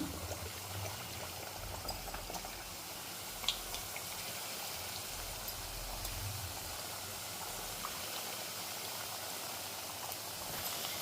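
Snacks (pindi vantalu) frying in hot oil, a steady crackling sizzle that holds through the whole stretch with no talk over it.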